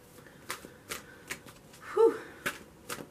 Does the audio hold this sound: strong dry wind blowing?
no